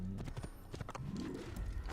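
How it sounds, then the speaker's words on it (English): Horse hooves clattering in a quick galloping rhythm as a horse tramples someone in the video game Assassin's Creed, busy and close with dense overlapping thuds. "Fucking horse mowed him down."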